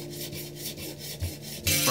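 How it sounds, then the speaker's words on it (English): A scratch-built 1/100 scale spaceship model is sanded by hand in quick, even back-and-forth strokes, a close, dry, raspy rubbing repeated about seven times, with no talking. "So much sanding."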